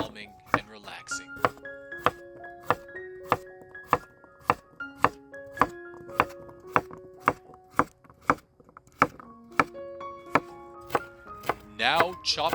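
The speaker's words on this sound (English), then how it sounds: "I love chopping vegetables. It is so calming and relaxing." A knife chops rhythmically on a cutting board, about two crisp strokes per second, with music playing underneath.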